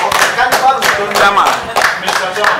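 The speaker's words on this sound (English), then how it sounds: "Clap for her." People in a meeting room clap in a burst of uneven, close claps with sharp individual strikes, while voices talk over the applause.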